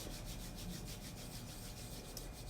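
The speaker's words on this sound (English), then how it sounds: "rubbing your hands together again, creating some warmth." Two hands rubbing together during a relaxation breathing exercise: a soft, steady, continuous swishing friction, close and quiet, with no speech.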